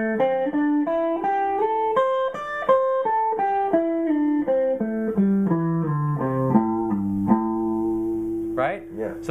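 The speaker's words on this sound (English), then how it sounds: "So it sounds like this when you go up and down the scale." Electric blues guitar sliding up and down a pentatonic scale, a smooth run of sustained notes climbing then descending, legato glides between positions, clear and close, ending on a brief squiggle.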